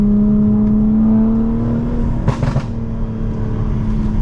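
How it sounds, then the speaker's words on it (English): A BMW G82 M4 settles on a downshift, its exhaust hum dropping into a loud, close burble with two quick pops partway through. "it's just the perfect burble for me. Just 2 pops, that's all I want for everyday driving"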